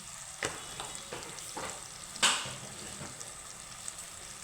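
Ground spice paste of cumin and coriander sautéing in a pan without water, a quiet steady sizzle broken by several light spoon taps and one sharper clink.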